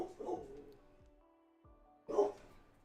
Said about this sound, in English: the joys of dogs trying to be guard dogs